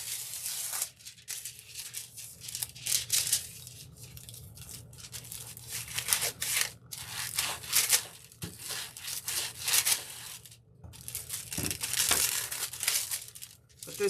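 A brush scrubs foil release through layered flower stencils, making repeated dry, bristly rubbing and scratching strokes in uneven bursts, close and fairly quiet.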